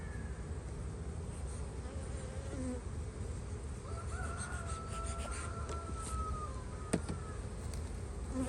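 Honeybees buzz around an open spring hive box as the frames are worked, a steady, soft, close drone that fills the whole stretch without pause.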